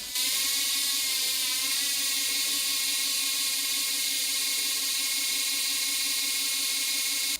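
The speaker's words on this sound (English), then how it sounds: "the flywheel will spin on its own" CYCPLUS T2 smart bike trainer flywheel spinning freely on its own, a steady continuous whir with a high, even mechanical whine and faint ratcheting texture, sustained and unchanging throughout.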